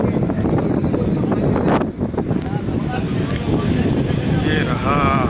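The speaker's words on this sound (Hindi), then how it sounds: "गजब का शोर, ये जो हवा चल रहा है ना" Strong wind blows at Digha beach, buffeting the microphone in a loud, uneven roar with gusts and a brief dip partway through, while a voice speaks over it.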